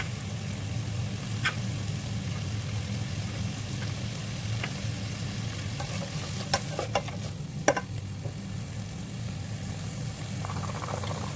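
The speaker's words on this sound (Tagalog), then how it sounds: "Let's saute the onion and chicken." Onion and chicken filling for empanadas sautéing and being stirred in a pan, a steady sizzle with scattered clinks of a utensil against the pan, fairly close and continuous, with no talking.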